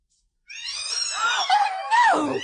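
A startled cat lets out a single loud, rising-then-falling yowl lasting about two seconds, close and alone after a moment of silence, as a radio drama sound effect.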